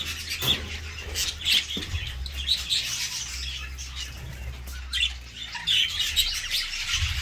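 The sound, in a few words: jumbo crested budgerigar chirping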